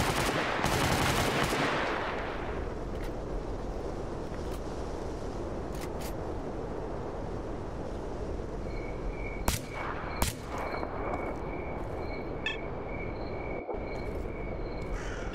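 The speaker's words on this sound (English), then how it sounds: "I think I'm shooting a plant currently." Gunfire in the shooter game Stalker Clear Sky, opening with a loud burst of rapid automatic fire, then a rumbling background with a few sharp single shots and faint electronic tones later.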